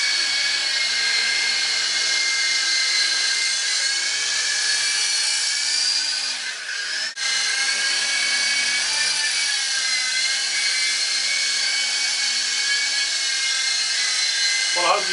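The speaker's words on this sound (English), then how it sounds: "That's my other helicopter" An RC model helicopter flies with a steady, high, buzzing whine from its motor and rotor that holds close and loud throughout, with one brief dip midway.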